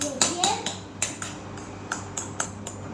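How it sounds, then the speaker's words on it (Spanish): A spoon stirs a batch of fluffy slime mixed with foam, tapping and scraping against a bowl in a quick irregular series of clinks. "Ahora cogemos otra vez la cuchara y removemos bien."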